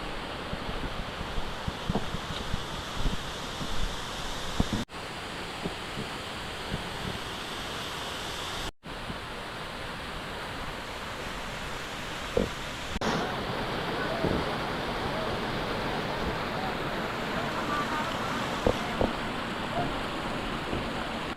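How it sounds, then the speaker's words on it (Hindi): Waterfall in Jambughoda Wildlife Sanctuary, dropping roughly 100 meters, gives a steady, loud broadband roar of falling water with wind buffeting the microphone and a few brief dropouts. "वाटरफॉल क्लिप से अप्रॉक्सीमेटली 100 मीटर की हाइट से गिरता है"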